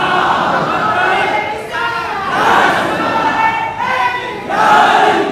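Crowd of men loudly chanting religious slogans in unison at a gathering, voices rising and falling in repeated call-and-response waves with sustained shouting throughout.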